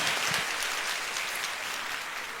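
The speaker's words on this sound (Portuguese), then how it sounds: "Um forte aplauso para o Wesley." Audience applause at a talk show on friendship, a steady, moderately quiet spread of clapping lasting the whole short clip with no talk.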